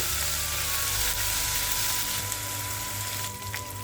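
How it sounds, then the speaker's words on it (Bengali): Ground cumin, garlic and onion paste fries in hot oil, a loud, close, continuous sizzle that stays strong throughout with a slight shift near the end. "এটাও কিছুক্ষণ তেলের সাথে একটু ভেজে নেব"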